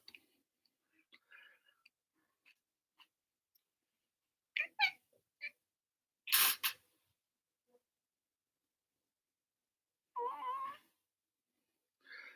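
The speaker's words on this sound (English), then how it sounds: "Whoa, he's not a happy cat." An upset cat meows in scattered, sharp bursts, with short gaps of near silence between them, one loud harsh yowl standing out and a drawn-out wavering meow late on.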